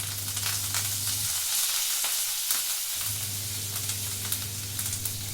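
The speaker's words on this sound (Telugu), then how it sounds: "ఇప్పుడు కరివేపాకు వేసుకుంటున్నానండి" Curry leaves sizzling in hot oil in a home kitchen, a steady loud crackling fry that dips briefly midway as the leaves go in, then resumes strongly.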